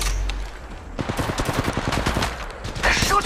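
Rapid gunfire in Apex Legends Mobile, a fast stream of close shots rattling for a couple of seconds after a brief lull, with a sharper blast near the end.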